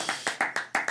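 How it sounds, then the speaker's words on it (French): Studio audience clapping for a quiz show contestant who gave a correct answer, a short burst of hand claps in bunched sharp slaps, close and moderately loud, no talk over it. "on peut applaudir Karen"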